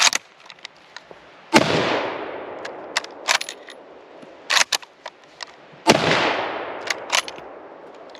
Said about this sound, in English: Well, let's run a few more rounds through it.